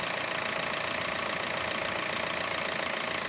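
A 2012 Kia Picanto engine idles steadily after a coolant pipe replacement, with a rough, knocking rumble and a bright hiss over it, continuous and fairly close, with no voices.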